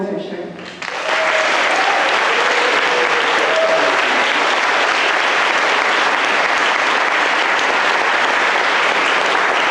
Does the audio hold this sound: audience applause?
yes